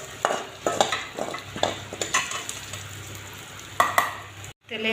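Ground spices, a bay leaf and two dried red chillies hit hot oil in a pan for a paneer curry, a low steady sizzle broken by repeated sharp scraping stirs of a utensil against the pan.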